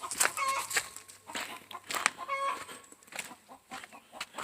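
Chickens cluck in a backyard coop, several birds making short, repeated calls with an occasional louder squawk, close by and fairly quiet, over a low background hum.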